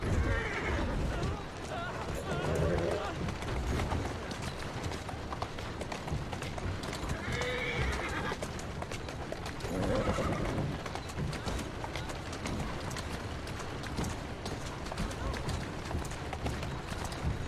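A horse in Assassin's Creed Syndicate gallops with steady hoofbeats and neighs a few times, under continuous game noise while someone talks over it.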